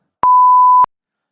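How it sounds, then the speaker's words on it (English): Censor beep bleeping out a word, a single loud steady pure tone lasting just over half a second, starting and stopping abruptly amid silence. "I'll probably beep out that one as well."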